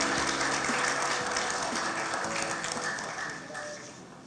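Audience applause for two keynote speakers at a summit, a dense wash of clapping filling the hall, with murmured voices underneath, gradually fading toward the end.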